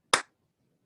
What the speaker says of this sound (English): When I just clap my hand